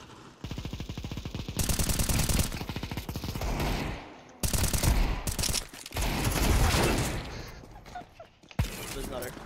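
Counter-Strike 2 gunfire rattles in long, rapid automatic bursts, loud and close, broken by short pauses and a few single shots.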